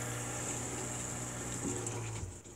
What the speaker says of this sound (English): I have a 12 volt water pump.